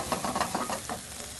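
Fresh button mushrooms go into a hot pan with a close, busy sizzle and a few pulses of stirring. The sound fades slightly after about a second.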